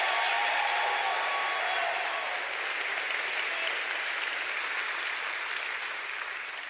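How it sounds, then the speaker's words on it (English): Steady, dense applause from a school district welcome-back event audience for the kids, full and even throughout, tapering slightly near the end. "So let's give another round of applause to our kids."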